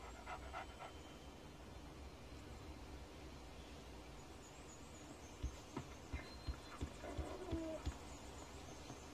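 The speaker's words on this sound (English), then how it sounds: "That's a good dog." A dog in the Alan Wake video game pants and breathes softly within a steady outdoor forest ambience, with a short run of low, evenly spaced thumps toward the end; everything stays faint and distant.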